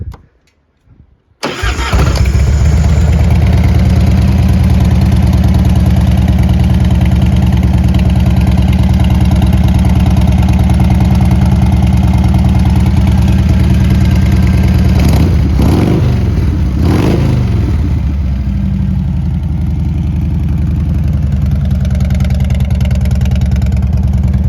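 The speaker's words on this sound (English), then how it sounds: "I'll start it up." A 1998 Harley Davidson Heritage Softail Classic FLSTC with a 1340cc engine cranks and fires after a brief silence, then settles into a loud, steady, close idle that holds to the end, with a short revving swell partway through.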